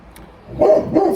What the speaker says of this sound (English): Let's wait that my dog barks.